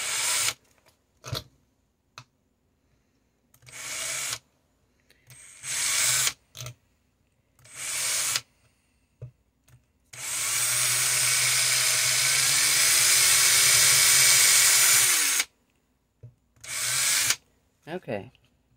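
A power drill boring into a copper sheet coated with resin, heard as several short whirring bursts and then one long steady high-pitched run of about five seconds, close and loud, followed by a few brief bursts.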